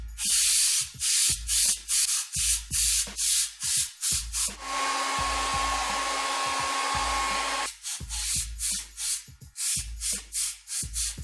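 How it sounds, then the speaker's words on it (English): A French curve airbrush stencil wiped on a towel between passes of an airbrush, heard as rapid rhythmic rubbing strokes with a steady hissing airbrush spray in the middle, close and clear, no talk. "you want to make sure you're wiping off the French curve here on a towel"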